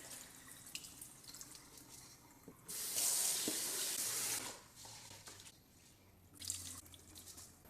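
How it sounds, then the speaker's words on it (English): Water runs from a tap into a rice cooker pot as rice is rinsed, a rushing stream lasting a couple of seconds followed by a shorter splash, otherwise quiet. "Rinse 2 to 3 times to remove any excess starch."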